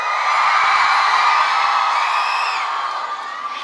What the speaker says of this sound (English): Cheer if you're in elementary school.